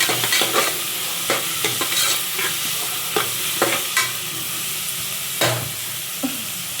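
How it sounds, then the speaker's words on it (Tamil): Onions fry for prawn biryani, sizzling steadily in a pan while a spoon scrapes and stirs it in irregular clacks, close and moderately loud with no talking. "ஆனியன் நல்லா வதங்கின பிறகு தான் நம்ம வந்து தக்காளி வந்து சேர்க்க போகிறோம்."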